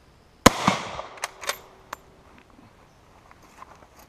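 A French Lebel Model 1886/93 rifle chambered in 8x50R Lebel fires one loud, sharp shot that echoes and fades, followed by a few lighter mechanical clicks and knocks.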